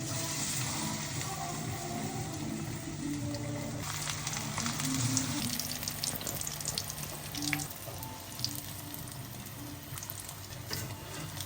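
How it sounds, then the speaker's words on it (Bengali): Gram-flour-battered bitter gourd and cauliflower chops frying in hot oil, a steady, dense hiss and crackle throughout with scattered sharper pops, close and fairly loud with no talking. "বেসনে ভিজে নিলাম, এখন তেলে দেব।"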